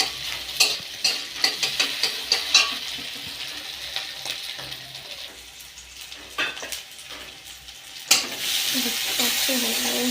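An egg fries in hot oil in a wok with peanuts, the steady sizzle broken by a quick series of scraping stirs and clinks from a spatula, close and fairly loud.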